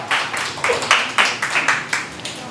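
Congregation applause in a church service, irregular clusters of claps from several people with distinct sharp bursts, close and moderately loud with no voices on top.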